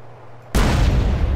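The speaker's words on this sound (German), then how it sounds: "So, erstmal kurz ein bisschen explodieren lassen hier." A sudden loud explosion in GTA San Andreas bursts in after a quiet moment and roars on with a heavy, rumbling wash to the end.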